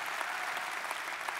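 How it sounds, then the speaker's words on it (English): A church congregation claps in a steady, even round of applause, moderately quiet and continuous, with no distinct voices standing out above it. "Now come on, either we're gonna clap or we aren't."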